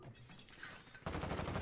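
Gunfire in the video game Call of Duty Warzone: a quiet stretch, then a sudden loud, dense burst of rapid shots that keeps going to the end.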